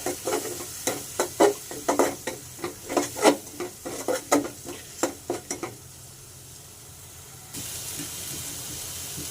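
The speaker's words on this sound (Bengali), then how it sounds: "এরপর সবগুলোকে ভালো করে মিক্স করে ভেজে নেব।" Spice masala of turmeric and coriander powder being stirred and fried in a pan: rapid scraping stir strokes over a soft sizzle for about six seconds, then a quiet steady frying hiss.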